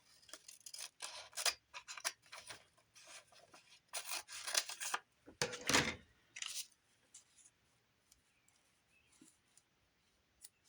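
Scissors snipping through craft material in short bursts of crisp cuts, close and fairly quiet, with pauses between the clusters of snips.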